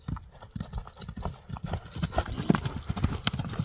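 A horse trots with rhythmic, close clip-clop hoofbeats that grow louder and busier as it goes, while voices talk faintly in the background.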